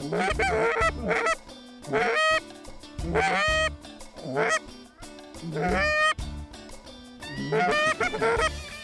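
Geese honk repeatedly in loud, overlapping bursts, a close flock calling in uneven rhythmic volleys.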